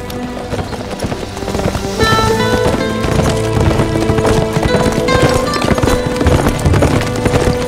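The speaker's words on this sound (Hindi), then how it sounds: "दुआन बहुत तेज घोड़ा दौड़ाता है, वो पहुंचा देगा खबर।" A horse gallops in a historical drama, its rapid, steady hoofbeats pounding continuously and loudly beneath a layer of background music.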